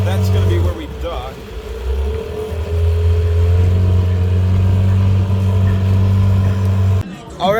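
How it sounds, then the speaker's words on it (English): A motorboat engine on Lake Victoria drones loudly and steadily, a strong low hum with rising and falling pitch and wind noise, ending abruptly. "I'm driving the boat right now."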